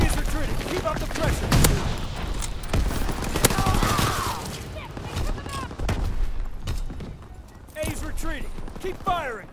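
Gunfire in the Call of Duty WWII video game: sharp shots and bursts scattered through a busy battle mix, mid-loud, with shouted voices and other game sounds around them.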